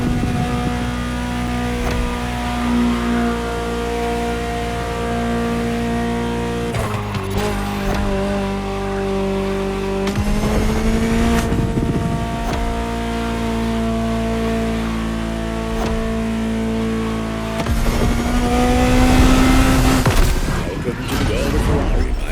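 A Ferrari supercar's engine roars and revs through repeated gear changes in The Crew Motorfest, loud and close, with shifts every few seconds and a final climbing surge.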